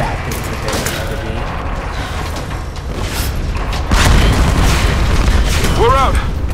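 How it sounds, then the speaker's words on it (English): In the Tomb Raider video game, a natural gas explosion sets off a loud, sustained rumbling roar, swelling further partway through with debris and crumbling noises layered over it. "Place full of natural gas, explosion, everything."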